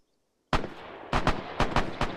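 Rifle fire in an Arma 3 World War II milsim training session: after a moment of silence, a sharp loud shot cracks out, followed by a ragged string of about six more close, punchy gunshots.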